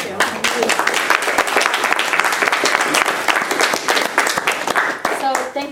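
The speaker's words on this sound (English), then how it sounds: "please give a round of applause to Pam" Conference audience applauding at a justice-themed gathering, a dense sustained wash of many hands clapping at steady volume throughout, with no speech over it.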